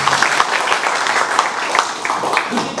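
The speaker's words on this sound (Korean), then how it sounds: "여러분 큰 박수로 격려드립니다" Audience applause at a Korean political gathering of small business owners, a loud, continuous patter of many hands clapping that fills the whole stretch evenly, with a faint voice underneath.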